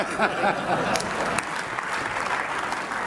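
Applause from members in a parliament chamber, a steady mass of clapping throughout, with a speaking voice faintly mixed in.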